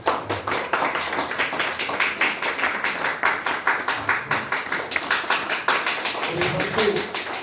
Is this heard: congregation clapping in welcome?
yes